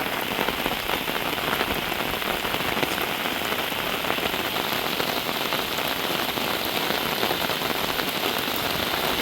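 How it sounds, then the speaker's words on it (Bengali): Heavy monsoon rain pours over a flooded village, a dense, even, continuous hiss of drops striking water and surfaces nearby, with no voices. "বৃষ্টির মধ্যে আমি ছাতা নিয়ে বের হয়ে গেলাম বন্ধুরা"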